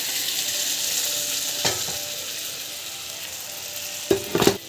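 Chilli powder sautéing in a pan for mango dal, a steady sizzle throughout with a spoon scraping once midway and a few sharper scrapes and clinks near the end.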